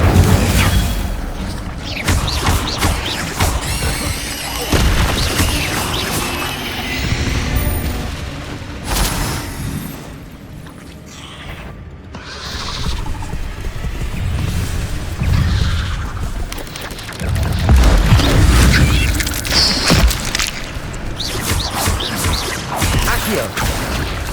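Incendio fire spells cast again and again during a spider fight in Hogwarts Legacy, loud booming bursts with crashing impacts that rise and fall over a dense game soundscape, with a voice shouting through much of it.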